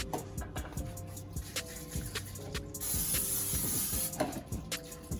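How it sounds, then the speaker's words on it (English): A steady hiss of cooking oil spray onto a cake pan runs for about a second and a half, framed by clicks, clatter and light handling noises nearby. "now you're gonna need a spray. That's what you spray for, so it doesn't stick"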